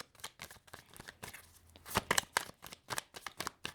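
Tarot cards being shuffled and handled, a quick sequence of crisp riffling flicks and soft slaps, close and fairly quiet, coming in rapid irregular bursts.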